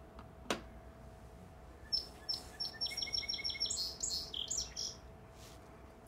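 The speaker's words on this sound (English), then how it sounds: "Song sparrow." A song sparrow sings a short, bubbly phrase of bright notes that ends in a raspy trill. The bird sounds moderately near against a faint outdoor background with a soft hum, and no one speaks.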